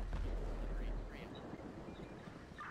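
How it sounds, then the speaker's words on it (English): A deep, booming explosion in the San Andreas video game opens with a loud low rumble for about a second, then fades into a quieter, noisy wash. "Break, be advised, explosion."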